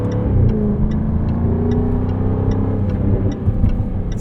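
A 2024 Jaguar F-Type R75 convertible with a supercharged V8 burbles through its exhaust while driving at night, a loud, close, low rumble with a rapid crackling patter riding over the steady engine note.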